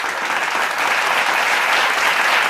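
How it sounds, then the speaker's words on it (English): A live audience applauds steadily and loudly at the start of a fifth-season show taping, a dense, even wash of clapping that holds for a few seconds without talk. "Can I get another applause for that?"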